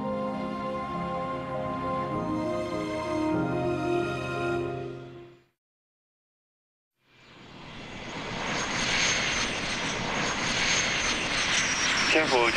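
Aircraft engines at an airport runway during takeoff and taxiing: a steady tonal engine hum with music-like harmonics, a brief silence, then a loud broadband roar building and holding as a plane powers up.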